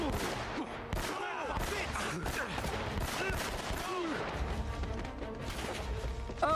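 Dense, continuous gunfire from Uncharted: Drake's Fortune, a steady barrage of shots and impacts running throughout, with game voices mixed underneath.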